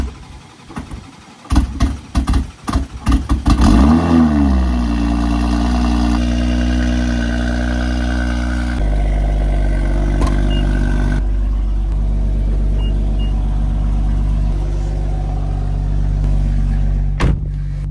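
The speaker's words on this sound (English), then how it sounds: "This cold startup is a lot more brutal." A car engine running on E50 fuel is cold-started up close: several seconds of stuttering cranking, then it catches with a surge and settles into a loud, rough, steady idle.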